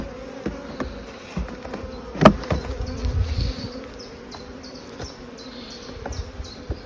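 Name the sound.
honeybees buzzing around a hive frame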